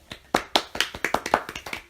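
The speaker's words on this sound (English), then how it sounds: "A round of applause," A handful of people clap sharply in a short, uneven round of about eight distinct claps across two seconds, close and fairly loud, with no talking over it.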